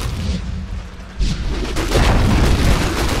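A tower collapsing in Dota 2, a heavy booming crash that swells suddenly into a loud, rumbling explosion and sustained debris roar after a quieter lead-in.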